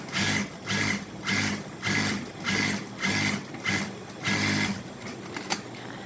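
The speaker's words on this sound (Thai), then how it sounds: "แล้วก็จะ เย็บเส้นล่าง" A sewing machine stitches a crescent-shaped neckline facing onto the back panel of an embroidered shirt, running in even, repeated bursts of rapid mechanical whirring with brief pauses between them, close and fairly loud.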